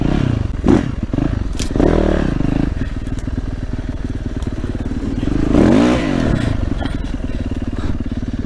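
A KTM 300 EXC two-stroke enduro motorcycle rides a technical trail, its engine close and loud with uneven revving, rising bursts and clattering over rough ground.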